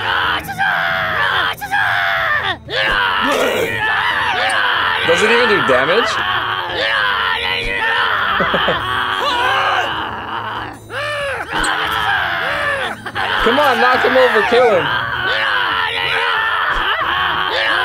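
A Damned Screecher unit in TABS yells nonstop, a loud, strained wailing scream that rises and falls continuously while a person talks excitedly over it.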